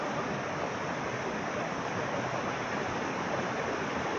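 Steady broadband roar of a waterfall seen from above in the Rinjani foothills of Lombok, a constant rushing wash of falling water with no breaks or talk.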